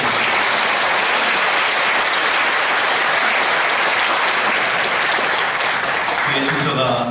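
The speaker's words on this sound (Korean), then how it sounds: "환영의 박수로." A crowd claps steadily and loudly for several seconds at a Christian praise competition held by a police missionary society in Incheon, a dense wash of applause that fades near the end as a voice begins.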